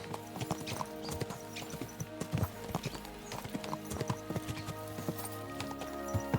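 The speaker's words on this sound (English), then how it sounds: "Let's really spur these horses on, eh?" Horses' hooves clip-clop in Kingdom Come Deliverance 2, a steady run of close, sharp hoofbeats over a busy background of game sound, with occasional louder strikes.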